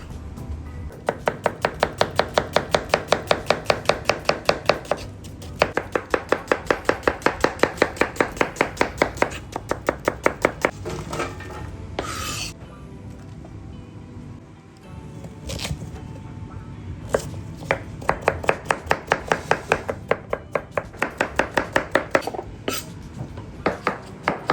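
A knife chops onion and carrot coarsely on a cutting board, producing long runs of rapid, even, close knocks separated by short pauses.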